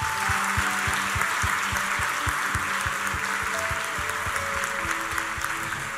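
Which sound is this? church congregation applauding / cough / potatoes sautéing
church congregation applauding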